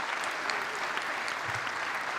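A conference keynote crowd claps steadily, a dense patter of many hands at moderate distance, with no one speaking.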